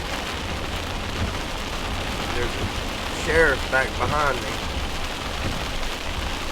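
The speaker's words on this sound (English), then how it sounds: "It's a lot of rain, a lot of water on the road." Heavy rain drums steadily on a car and splashes on a flooded road during a drive, a continuous broadband wash with a voice speaking briefly partway through.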